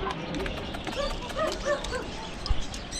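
A dog gives a few short barks and yips at moderate distance over steady background noise, in a setting where pet dogs are fed a cheap meal to bulk them up.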